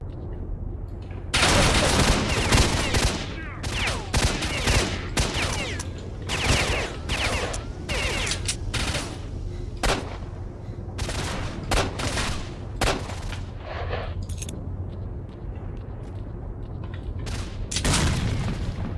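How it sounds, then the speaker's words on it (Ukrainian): In S.T.A.L.K.E.R.: Shadow of Chernobyl, a grenade explosion booms amid loud, dense bursts of rapid gunfire that crack one after another for most of the stretch. "Заебись кинул гранату, ничего не скажешь."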